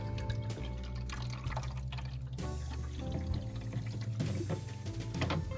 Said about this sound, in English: I'm just going to pour a bunch of it into this water bin.